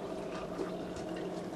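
Cranberry juice poured into prepared cups, a faint, steady liquid trickle that runs without pause in a quiet room, with no voices.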